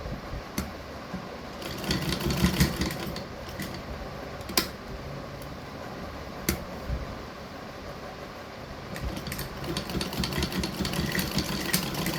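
A sewing machine runs steadily while double-stitching elastic onto balloon sleeves, its motor a continuous close whir with louder bursts of needle chatter, and no voices.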